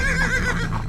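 A horse whinnies loudly over the creak and rumble of a carriage on a dusk road, the wavering neigh rising and falling across about a second with faint hoof clops underneath.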